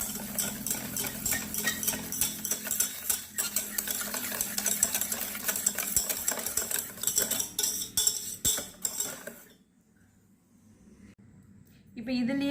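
An egg, sugar and milk mixture for bread pudding is beaten briskly in a bowl, making rapid clinking and scraping strokes that continue for several seconds, then fall to near silence before a brief resumption.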